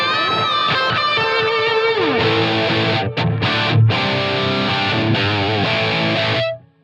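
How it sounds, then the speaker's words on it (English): Distorted electric guitar runs through a Line 6 Helix with delay and reverb, a lead phrase and bends followed by chords and a fading wash of echoes and reverb tail that rings out before cutting off. "you can hear that there's a much more natural transition from the lead with the wet reverb and delayed repeats into the dry rhythm sound"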